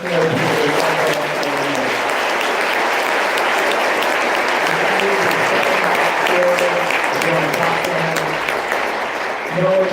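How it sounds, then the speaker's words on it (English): Sustained, loud applause from a large crowd, a dense continuous clatter of clapping with occasional voices mixed in. "Please keep a round of applause going for a great"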